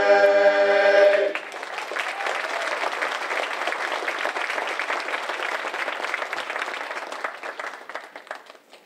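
A crowd at a Somerville Heroes' Salute event applauds a barbershop chorus, dense sustained clapping that follows the last sung note, holds steady and loud for several seconds, then fades.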